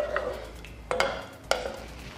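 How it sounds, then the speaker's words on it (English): Brown sugar is stirred into a simmering cocktail syrup in a pot, with a soft scraping swirl and a few sharper spoon knocks against the pot over a low steady bubble. "I'm gonna stir this, stir this brown sugar in and just let it dissolve."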